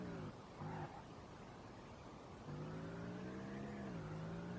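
A car engine revving hard while drifting in the racing game SLRR, a loud sustained tonal whine that drops briefly, then climbs back and holds high with slight pitch wavers, heard alone.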